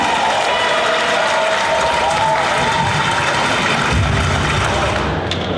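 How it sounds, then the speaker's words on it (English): Warm applause from a morning audience in Neepawa greets the Stella Jones plant manager, a steady dense wash of clapping filling the room throughout, with a faint murmur of voices mixed in before it thins near the end. "Let's give him a warm round of applause, please"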